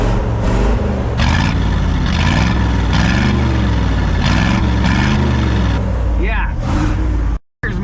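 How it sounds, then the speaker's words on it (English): A 1978-ish Ford F-350 pickup engine idles steadily at about 500 RPM, a loud, close low rumble with slight rhythmic surging that runs throughout, then cuts briefly near the end. "But just listen to that sassy old. She's never run this good."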